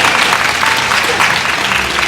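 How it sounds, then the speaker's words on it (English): Dense, steady applause from an audience at a horse training event, continuous and fairly loud throughout with no pauses or distinct individual claps. "You can clap for it,"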